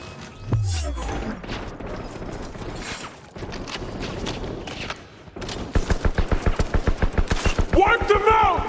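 Gunfire in Cyberpunk 2077 comes in scattered shots and bursts, ending in a fast, loud, rhythmic automatic volley, with mechanical clatter and shouted voices mixed in.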